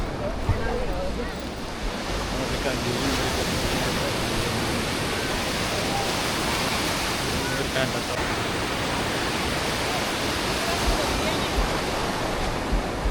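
Ocean waves wash onto a beach at Mangaluru in a steady, broad roar of surf mixed with wind buffeting the microphone, continuous and fairly loud throughout.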